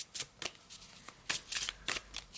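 Oracle cards being shuffled by hand in a quiet room, repeated soft riffling bursts in an uneven rhythm, close and fairly quiet with no talking.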